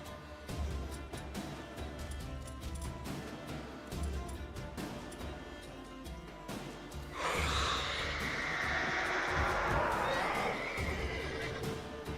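A horse whinnies loudly partway through, rising into a breathy neigh, after a stretch of busy game sounds and faint thumps, in The Witcher 3.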